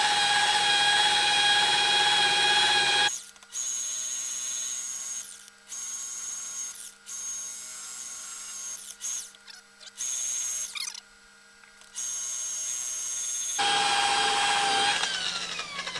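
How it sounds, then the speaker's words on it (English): A large polishing buffer runs steadily, a loud high whine with a constant tone that dips and cuts out in places mid-run before spinning back up near the end. "Make sure if you're running a big buffer like this, don't be distracted."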